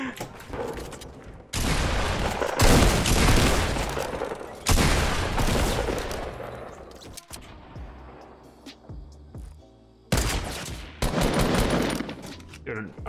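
Video game gunfire rips out in loud, dense bursts of rapid shots, with short pauses between volleys and a final burst near the end, up close with no voices over it.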